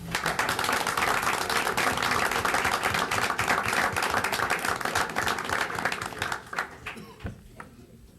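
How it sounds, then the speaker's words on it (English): A school board meeting audience applauds a principal with dense, sustained clapping that holds steady for several seconds before thinning out into a few scattered claps. "a round of applause for a very fine principal"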